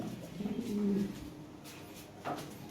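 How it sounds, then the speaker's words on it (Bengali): Pigeons kept for sale coo in a low, rolling burst near the start, with fainter bird sounds and light rustling after, quiet and close without talk. "অনেক সুন্দর কবুতর ভাই এগুলা ভালো কবুতর"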